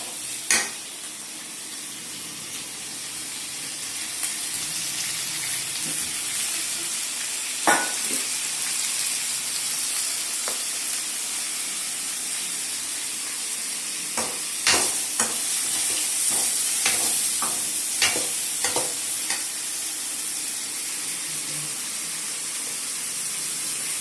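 Potatoes and brinjal sautéing in a kadai, a continuous hiss of frying with scattered clanks and scrapes of a stirring spoon against the pan, growing busier toward the end, close up with no voices.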